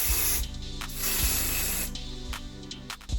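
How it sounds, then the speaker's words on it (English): Close, loud hissing bursts of wig adhesive spray aimed underneath a lace closure, several spurts in quick succession with short gaps between them, no talking. "I'm gonna spray underneath the lace"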